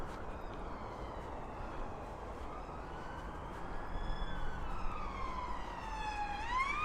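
A wailing police siren rises and falls over steady traffic rumble outside Greater Manchester Police headquarters, growing louder as it approaches, with a second siren tone sweeping in near the end.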